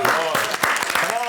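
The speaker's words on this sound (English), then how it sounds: "I knew that I had to start the clap immediately" A studio audience breaks into sustained, dense clapping on a comedy panel show, loud and continuous, with voices mixed into the applause.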